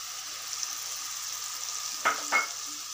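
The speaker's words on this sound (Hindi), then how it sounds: "जो हमारी टोमेटो प्यूरी हमने बना के ली है वो भी इसी में डाल के हम इसको अच्छे से भूनेंगे।" Tomato purée sizzles steadily in hot oil in a pan as a Dam Aalu curry base is fried, with two brief scrapes of stirring near the end over the constant hiss.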